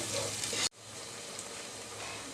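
Onions with salt go into hot oil for a beef tehari. A dense, loud sizzle cuts out abruptly, then a softer, even frying hiss continues.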